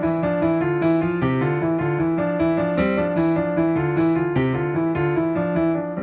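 Piano notes play in quick, repeating clusters of three with an even rhythm. The tone is clear and close, with no voices.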